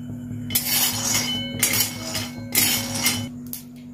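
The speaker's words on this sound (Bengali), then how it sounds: "আমি কাঁচা বাদামগুলো শুকনো কড়ায় একটু ভেজে নেব।" Raw peanuts dry-roasting in a hot wok on a gas flame, giving repeated rattling, clinking scrapes in bursts of about a second, close and fairly loud, with a low steady hum beneath.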